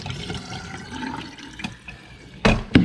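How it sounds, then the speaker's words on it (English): Rinse water poured out of a pot of potatoes into a sink, a loose splashing wash of water that ends in two short, louder gushes near the end, with no talk. "So I'm going to dump out the water."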